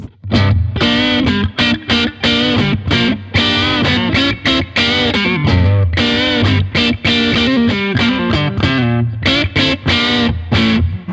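Distorted electric guitar through a Blackstar TV10 amp with a warm, crunchy tone plays a busy riff of chords and single notes, loud and close, with no voices.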